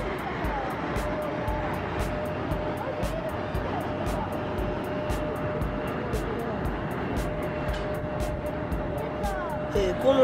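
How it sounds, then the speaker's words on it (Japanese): Steady roar of a jet airliner engine starting during pushback at Matsuyama Airport, with a thin high whine held over a dense rumbling background and faint ticking throughout. "エンジンを始動するんですよ、大体"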